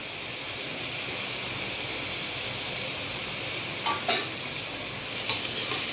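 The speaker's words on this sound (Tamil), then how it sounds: "நல்லா வதங்கும் புதினாவும் மல்லித்தலையும்" Mint and coriander leaves sautéing in a pan for an egg biryani give off a soft, steady sizzle throughout, broken by a couple of brief utensil clinks near the end.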